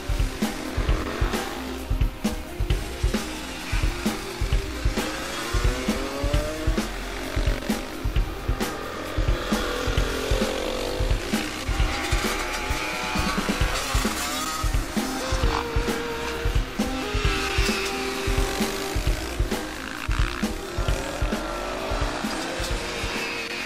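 A Husqvarna 125 motorcycle rides with a steady, loud engine drone and rapid rhythmic pulsing throughout, close by with no talk.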